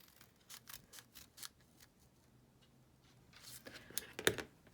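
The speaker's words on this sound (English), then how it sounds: "my scissors, and I'm going to make 1 cut" Scissors snipping through paper to cut out a heart shape, a few quiet crisp snips spaced apart, then a sharper close cluster of cuts near the end, with no talking.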